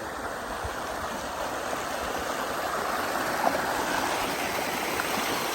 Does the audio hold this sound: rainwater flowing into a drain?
yes